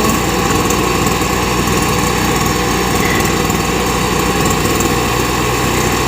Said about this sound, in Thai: ใส่ด้วยการพ่นค่ะพ่น เอาเครื่องพ่น